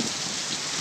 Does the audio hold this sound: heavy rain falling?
yes